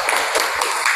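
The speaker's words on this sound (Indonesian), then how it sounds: "Boleh tepuk tangan" A classroom of people claps their hands in a brief burst of dense, steady applause that fills the whole moment at close range.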